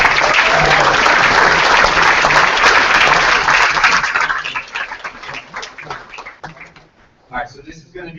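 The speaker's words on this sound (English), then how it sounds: "We're going one more round of applause." An audience at a coder summit gives a round of applause, loud dense clapping that tapers off after about four seconds into scattered claps, with speech breaking in near the end.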